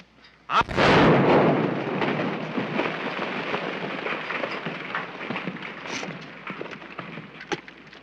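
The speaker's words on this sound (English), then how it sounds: "Somebody else shooting?" A loud, sharp gunshot in a 1931 western film, followed by a long, rumbling, noisy roar that slowly fades, with a few fainter cracks later on. No voices are heard.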